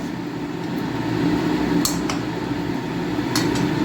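Rohu fish pieces with spices for a mustard-poppy-seed jhal fry in a pan, a steady close sizzle with a couple of faint utensil taps as they are stirred.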